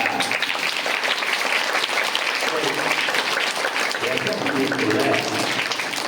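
Audience at a Tamil Thirukkural recitation opening ceremony clapping, a continuous, fairly loud spread of applause with some voices murmuring underneath throughout.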